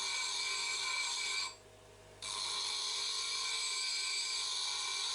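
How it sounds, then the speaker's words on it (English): Steel grinding against a coarse grinding wheel, with a continuous high-pitched whine that drops out briefly for under a second before resuming, steady and close with no talking. "You have to grind off the steel with the coarse wheel."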